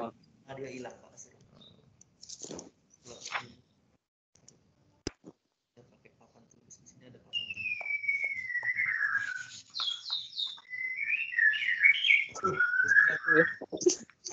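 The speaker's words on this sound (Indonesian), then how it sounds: "Wih, mantap tuh burungnya tuh. Gacor." A loud, lively songbird sings nearby in sustained whistled phrases with rising and falling trills, preceded by scattered clicks and brief speech-like sounds.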